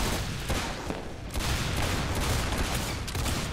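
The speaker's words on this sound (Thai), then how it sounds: "ดูดิคือยิงรัวปุ๊บกระสุนแม่งกระจายออก" Rapid revolver fire from the Roblox game Arsenal, a dense, continuous stream of gunshots in quick succession with no pause, loud and close throughout.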